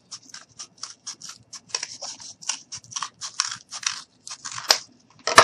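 Scissors snip through cardboard while cutting out a seat shape for a cardboard Jeep model, a close, steady run of short crisp cuts with brief pauses and a louder crunch at the end.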